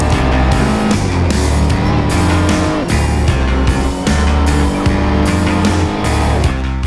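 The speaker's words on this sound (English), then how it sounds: "Here, on a Ferrari 101, I'm now entering the Arrabbiata 1 corner at very high speed, without even approaching the curb" A Ferrari race car runs at high speed on the Mugello circuit, its engine loud and close with a sustained roar that shifts pitch as the car drives on. No voices are heard.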